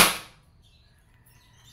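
A Crosman Phantom P10 airgun loaded with 4.5 mm BBs fires a single sharp, loud crack that snaps off quickly into a short fading tail and then quiet.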